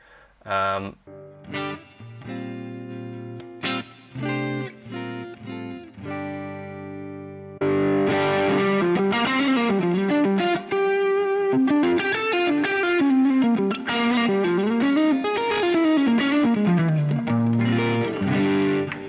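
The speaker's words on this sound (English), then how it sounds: "Let's drop in a bit of delay." An electric guitar plays through a Dumble-style amp with a 2290 delay, first sparse plucked notes, then a denser, louder melodic run with echoing repeats trailing each note.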